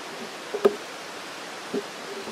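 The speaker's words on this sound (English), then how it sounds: "I get the river just behind me." A river flows just behind a hammock campsite, a steady faint broadband rush with a couple of soft brief knocks nearby.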